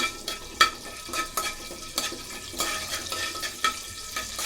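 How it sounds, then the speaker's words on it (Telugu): Green split dal (pachcha pappu) frying in a pan with curry leaves, stirred steadily, giving a continuous close crackling sizzle broken by repeated sharp scraping strokes of a spoon against the pan. "ముందు వేసుకున్నాక అలా వేపుతూ ఉండాలి"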